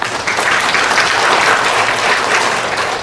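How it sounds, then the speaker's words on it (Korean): An audience at an education lecture claps to welcome the speaker, a loud, steady wash of many hands that holds evenly throughout without talk. "선생님 큰 박수로 맞이해주시기 바랍니다."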